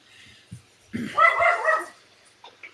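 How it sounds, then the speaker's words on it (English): A dog lets out one drawn-out, whining bark, preceded by a soft thump and followed by a couple of faint yips. "And that is my dog chiming in there."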